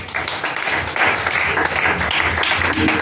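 A church congregation applauds, with steady, dense clapping from many hands that goes on throughout, mixed with voices cheering and calling out.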